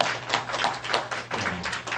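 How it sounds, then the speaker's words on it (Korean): Church congregation claps in welcome during a Sunday service, a brief patter of hand claps, moderately quiet and somewhat uneven, fading after a couple of seconds. "우리 박수로 환영합니다"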